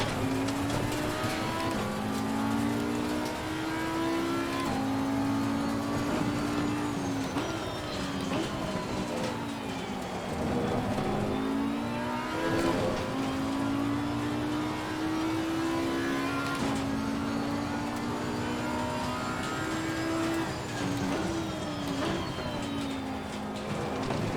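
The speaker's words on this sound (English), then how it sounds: "There's a faster class car approaching." An Audi R8 GT4 racing at Oulton Park in Assetto Corsa Competizione with a faster class car approaching, its engine droning and rising through the gears. Tire noise and passing cars sit in a continuous, loud, close mix.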